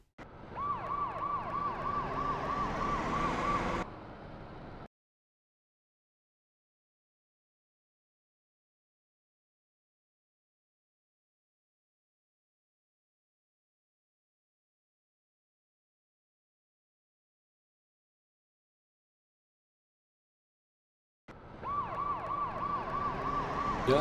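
Emergency vehicle siren from the PlayStation game Rescue 24 Hours, a steady wailing tone heard loud in two separate bursts at the start and end, with a long stretch of silence between.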